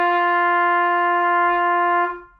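A trumpet holds a single steady G for about two seconds, a clear, bright, sustained tone played alone, then cut off.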